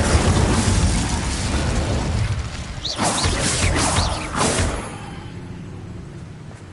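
Glacius and Incendio spells cast in Hogwarts Legacy: bursts of whooshing, crackling magical blasts up close, a few sweeping impacts midway, then the noise drops away to a quieter tail.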